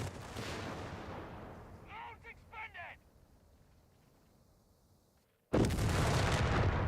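A Pak 38 anti-tank gun fires in the Company of Heroes 3 strategy game: a loud boom with a long rumbling tail fades under faint clatter, then a second heavy blast bursts in abruptly after a brief silence.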